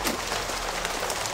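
Rain falling outdoors, a dense steady hiss of drops pattering on surfaces, continuous and fairly loud with no talk over it.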